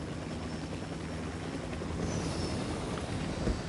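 Steady droning whir of a helicopter in a shooting video game mission, continuous and loud, with a faint shift in tone partway through.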